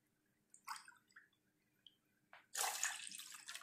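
Milk poured into boiling masala chai in a pot gives several short liquid splashes and trickles, then a louder, sustained rushing pour near the end, close by with no talking.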